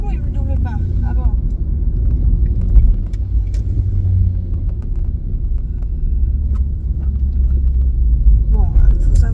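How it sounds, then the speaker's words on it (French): Motorcycles pass on the road close by, their engines a steady low rumble that swells and fades under continuous traffic noise. "il y a des motos qui passent"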